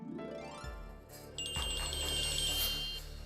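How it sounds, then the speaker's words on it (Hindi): A phone rings with an incoming call, a bright electronic trill that rises in over a low background hum and holds for about a second and a half in a quiet indoor scene. "लेकिन फिर मुझे एक फोन कॉल आया।"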